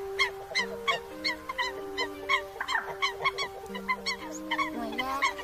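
A Eurasian coot (sâm cầm) gives a series of short, sharp, honking calls at a quick, regular rhythm of about two per second, set over a steady tonal hum.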